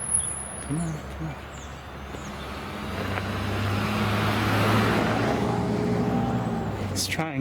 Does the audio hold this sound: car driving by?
yes